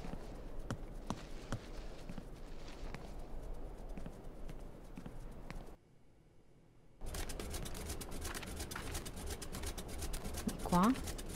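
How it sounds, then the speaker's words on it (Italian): A machine with mechanical horses runs inside a pub in Syberia II, giving rhythmic clip-clop hoof clatter over low ambience. It cuts to near silence for a moment midway, then the clatter resumes. "Dove c'era quella macchina con i cavalli meccanici."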